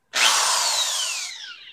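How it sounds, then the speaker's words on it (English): A power drill fitted with a 1/8-inch bit bores into scrap wood in one loud, close burst, its whine sliding downward in pitch as it runs for over a second before it tapers off. "And a drill with an 1/8-inch drill bit."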